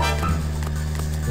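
A car horn honking in a video game, a sustained steady tonal blare with strong harmonics that runs loud and unbroken for over a second.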